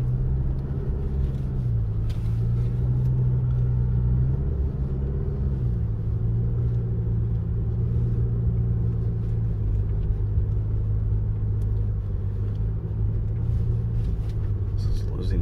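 A 2022 Toyota RAV4 Hybrid drives on beach sand at Oceano Dunes, its engine humming with a steady low rumble and a pitch shift as it changes gear, while a person talks over it.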